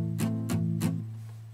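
Acoustic guitar chords strummed with palm muting, three short, clipped strums in an even rhythm, close and moderately loud, with the notes dying away quickly.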